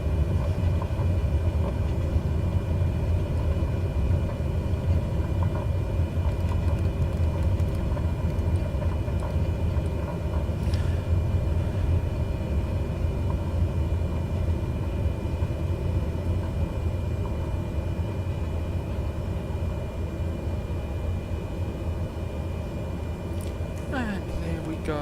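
An airliner's landing rollout on a runway in a flight simulator gives off a steady low rumble of engines at idle and rolling wheels, continuous and unchanging.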